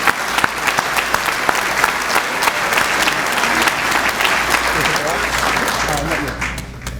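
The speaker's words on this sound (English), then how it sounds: "So I'd like to get a round of applause for the folks who organized this event." A banquet audience gives the event organizers a round of applause, a sustained wash of dense clapping from many hands in a hall, steady for several seconds before tapering off.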